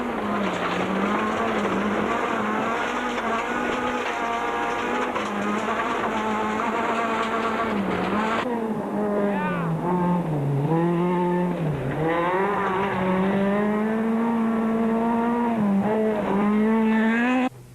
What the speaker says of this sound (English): Back on board as he launches into a tight 90-degree corner